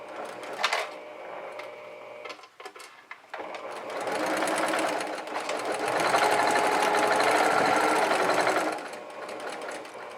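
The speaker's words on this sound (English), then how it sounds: "About 1 inch in from the bottom, we're gonna go ahead and sew that." A sewing machine stitches elastic onto a fabric face mask, running in short bursts that settle into a steady, close, loud whir for several seconds before stopping.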